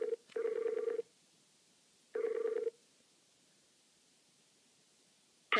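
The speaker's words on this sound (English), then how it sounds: "Dial up here." A Skype phone call being placed: two steady ringback tones, each lasting about half a second, separated by quiet, followed by a brief click at the end, clean and moderately loud.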